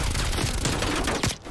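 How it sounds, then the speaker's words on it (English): SMG fire in Call of Duty on the Nuketown '84 map, a dense, rapid stream of loud shots filling the short moment with almost no break. "this SMG is basically an AR, so I didn't even get the kill"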